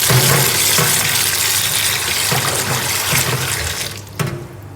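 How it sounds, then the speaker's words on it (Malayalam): Vegetables being washed under running water in a kitchen sink: a steady, loud rush and splash of water that continues throughout, then thins abruptly near the end. "നന്നായി ഒന്ന് കഴുകുക, 2 വട്ടം കഴുകിയിട്ട് അങ്ങനെ ഇടുക"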